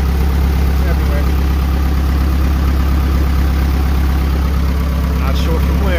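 A B20 VTEC turbo car engine idles steadily while pulled over at the roadside, with a coolant leak under the hood, a continuous loud close rumble throughout.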